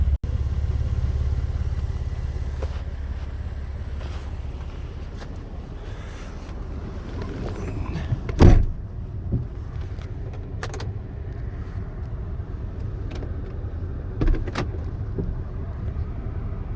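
A car drives on a tire repaired with hot glue, making a steady low engine and road rumble from inside the vehicle, with a couple of brief knocks and bumps along the way.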